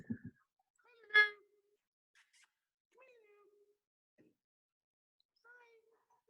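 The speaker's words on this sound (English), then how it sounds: "And here's my cat." A cat meows a few times in a quiet room: one loud, clear meow followed by several softer, shorter calls spaced apart, with a voice briefly heard at the very start.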